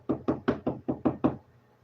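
A voice imitates police banging on a door with seven loud, evenly spaced knocks in quick succession, delivered alone with no talk, then silence.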